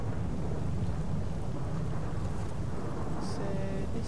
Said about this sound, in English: what I thought was a blowout seems to be just some sort of a thunderstorm